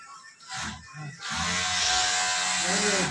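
Sewing machines stitch in a tailoring workshop where pockets are being attached, a steady high buzzing drone that swells up after a moment of voices and runs on continuously beneath talk.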